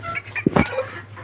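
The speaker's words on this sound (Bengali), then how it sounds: "তো এই হচ্ছে আমার শেরে মা মুরগিগুলো।" Small Malaysian Serama hens clucking close by in a short burst, a couple of sharp throaty clucks in the middle over a low steady hum, with no talking.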